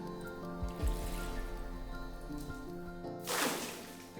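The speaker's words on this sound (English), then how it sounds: "I want you to dip a cup of this water and pour it down the well" A cup of water poured down a deep well, over 100 feet deep, lands far below as a faint splash and drip after a pause, followed by a brighter, nearer splash of water near the end.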